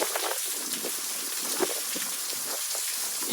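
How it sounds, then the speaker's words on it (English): Steady hurricane rain pours during Hurricane Francine, a dense continuous hiss of drops with wind gusting underneath, close and unbroken throughout. "the rain and wind have picked up significantly"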